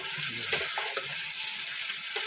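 Chicken kosha frying in a pan, a steady close sizzle with a few sharp stirring clinks and scrapes of the spoon against the metal.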